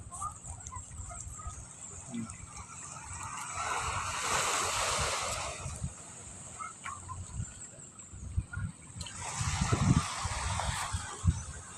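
Surf rolls and washes in steadily, with two swelling surges of breaking waves and low rumbling wind noise throughout.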